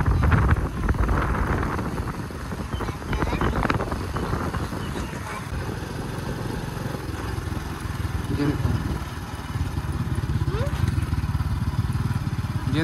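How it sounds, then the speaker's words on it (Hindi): A motorcycle rides through a busy village fair, its engine droning steadily throughout under heavy wind buffeting, with people talking over it and crowd noise in the background. "आप चलाओ बाइक।"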